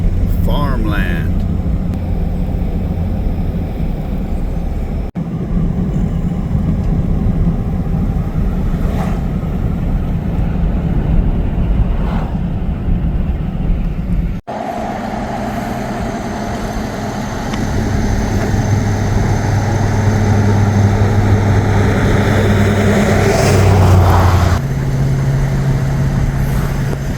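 A car cruising through farmland, with a steady rumbling road and wind roar filling the cabin, interrupted by a couple of abrupt breaks, and engine tone rising slightly near the end.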